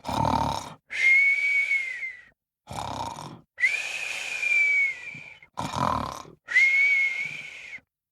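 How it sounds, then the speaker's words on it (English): A sleeping griffin snores and whistles in long, loud repeated breaths, each inhale a rough rumbling snore and each exhale a drawn-out whistling tone, about three cycles in a steady rhythm. "The Griffin fell asleep straight away and started to snore and whistle."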